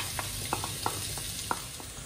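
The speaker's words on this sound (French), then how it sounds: "Nos échalotes rissolent bien" Chopped shallots fry in oil over high heat, giving a steady close sizzle broken by a few soft crackles and pops through its length.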